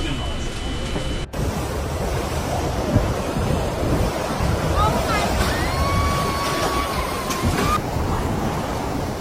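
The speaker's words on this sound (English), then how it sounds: "Winds howling past 190 kilometers per hour bent steel poles and hurled saltwater high over the seawalls" Typhoon winds over 190 km/h roaring along a coastline as waves crash and spray over seawalls, a loud, dense, unbroken rush of wind and surf with some faint whistling tones, with a voice narrating over it.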